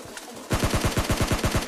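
Automatic gunfire rattles in a battle royale video game, a rapid burst of about a dozen evenly spaced shots, loud and close, coming after a brief quieter lead-in.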